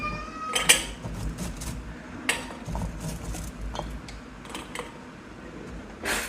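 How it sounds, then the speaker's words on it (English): Leeks dropping through a stainless steel funnel into a glass jar, with scattered clinks and light metallic taps at irregular intervals over a soft background hiss. "And then we're going to just fill the jar with our leeks."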